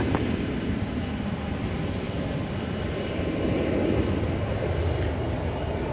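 A plane departs a runway at DFW Airport, heard as a steady, distant engine roar with broadband rumble that holds level throughout, no voices present.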